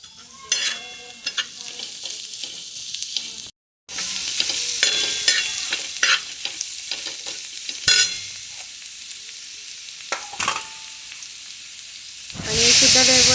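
Turmeric and salt frying in an open pan, a steady close sizzle with spatula scrapes and clinks, brief gaps, and a louder hissing burst near the end.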